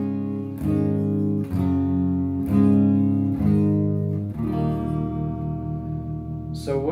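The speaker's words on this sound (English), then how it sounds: "So what you're hearing there is just the bottom end of that neck pickup." A Johnston T-style relic electric guitar played through its neck pickup rings out in warm, bassy picked notes and chords, several clear strikes in a loose rhythm that sustain and decay, heard alone and close.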